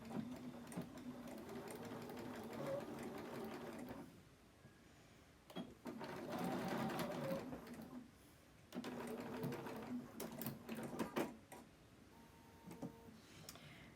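A sewing machine stitches over elastic in a scrub cap, running in steady buzzing bursts close by with short pauses between runs.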